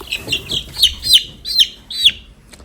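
A young hen chick peeps close by: five or six sharp, high chirps in a quick, uneven series, with faint background noise between them.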